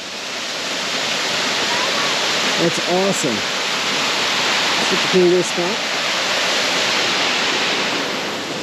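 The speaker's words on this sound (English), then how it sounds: "we finally made it to the waterfall" A waterfall on an off-road trail roars as a loud, steady rush of water. Two brief stretches of people talking sit on top of the noise.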